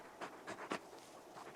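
Torgal, the large dog companion in Final Fantasy XVI, panting quietly: a few soft, breathy huffs in an uneven rhythm, faint and close, with no talking.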